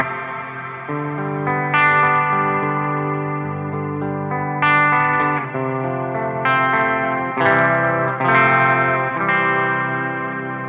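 A Meris Mercury X reverb pedal on its Cathedral algorithm, with pre-delay and modulation, turns sustained instrument chords into vast, ethereal washes, each new chord swelling in over long lingering tails.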